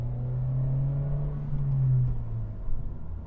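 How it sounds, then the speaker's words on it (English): A 2025 Honda Civic Si engine drones steadily, then its revs fall away smoothly between gear shifts, a close, even rumble sliding lower before the next gear catches. "You got to have the revs drop in order for it to smoothly go into the next gear"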